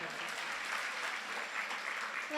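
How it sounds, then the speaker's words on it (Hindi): Audience applause for a little girl during a religious discourse, a continuous soft patter of many hands clapping at an even level, heard faint and somewhat distant. "सबसे पहले इतनी छोटी सी बच्ची के लिए ताली तो बजा दो।"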